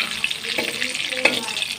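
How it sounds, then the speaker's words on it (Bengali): Potatoes go into hot oil already seasoned with bay leaf and garam masala after prawns were fried, giving a steady bright sizzling hiss with a couple of sharper spits. "তেলের উপরে তেজপাতা গরম মশলা ছেড়ে এখন আলু ছেড়ে দিচ্ছি"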